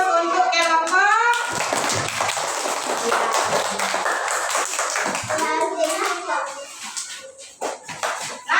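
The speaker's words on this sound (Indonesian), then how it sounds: "Berikan aplaus untuk kelompok." Applause for a group of schoolchildren in a classroom maths lesson, a dense burst of many small hands clapping close by for several seconds, with children's voices and chatter mixed in before it thins out.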